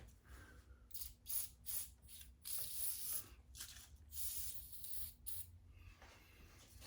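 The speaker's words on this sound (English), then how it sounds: "Let me try and put a little bit of WD-40 or something on there. PV Blaster will work." Short hissing bursts of aerosol penetrating oil, PB Blaster, sprayed onto a seized wheel part, coming as several separate blasts of varying length over a steady low background hum.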